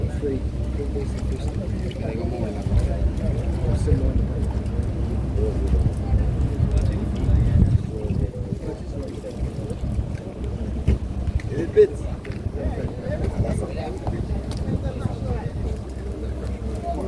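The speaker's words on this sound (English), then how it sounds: "my boat is coming. It's coming." Boat coming in across a fishing pond at Vieux-Fort, a continuous low engine rumble with rough wind noise on the microphone, steady and fairly close throughout.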